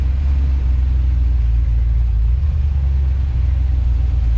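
A car engine fitted with a high-stall torque converter, held in drive on light throttle, producing a loud, steady, deep rumbling drone throughout.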